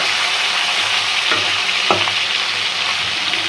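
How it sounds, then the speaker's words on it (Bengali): Big pieces of chicken fry in a large wok with a loud, steady sizzle of oil up close. A couple of sharp scraping clacks come from stirring, and no one speaks. "মুরগিগুলো সুন্দর করে ভাজছে একবারই দিয়ে দিছি বড় করাই তো"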